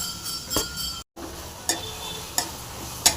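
Raw mango thokku being stirred in a pan, with a few sharp scrapes and clicks of a spoon against the metal spread across a brief stretch, over a low steady cooking hiss.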